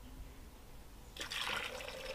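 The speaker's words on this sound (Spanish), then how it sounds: "Le vamos a agregar una taza de nuestra agua donde se cocieron los chiles" A cup of chile cooking water is poured into a blender, splashing in suddenly halfway through and continuing as a steady, fairly close liquid rush over faint background noise.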